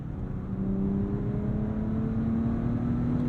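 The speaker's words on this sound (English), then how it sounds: "now that we can hear from this W12, what do we think of the engine note?" A smooth W12 engine in a 2023 Bentley Flying Spur Speed drones steadily, its pitch rising slowly as it accelerates, a muted and continuous whir.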